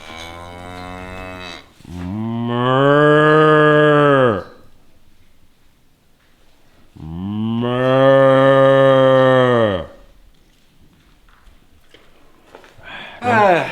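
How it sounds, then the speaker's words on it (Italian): Cows on a pig farm give two long, loud moos in turn, each lasting a few seconds, with quiet gaps of barn ambience between them and a brief third call starting at the end. "fai amicizia con le vacche intanto"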